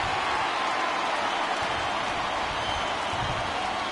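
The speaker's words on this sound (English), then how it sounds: "A crowd trying to get to Kennedy's head, getting really loud here" A crowd at a Royals-White Sox baseball game getting loud as a pitcher works with the tying run in scoring position, a broad, steady roar of many voices filling the ballpark without letup.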